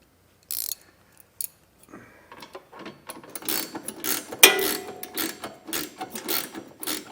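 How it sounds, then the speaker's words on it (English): Hand ratchet clicking in quick repeated bursts while tightening trailer hitch bolts on a 2021 Toyota, starting with a few sparse clicks and building to steady ratcheting close to the microphone. "We're going to be able to get a ratchet on that."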